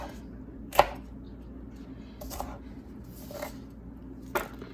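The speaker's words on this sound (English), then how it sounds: "I'm just going to cut these in nice rings" Sharp knife chopping through hot peppers on a board, cutting them into rings: four distinct crisp cuts spaced irregularly over a few seconds, close and clear against quiet room tone.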